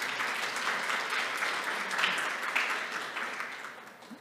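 An academic conference audience claps to welcome a sociology professor to the podium, a soft, even round of applause that holds for several seconds and then tapers off.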